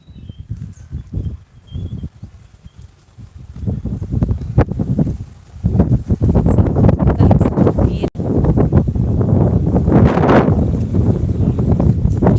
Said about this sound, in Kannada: ಜೋರಾಗಿ ಕಿಸ್ತಾ ಇದೆ ಗಾಳಿ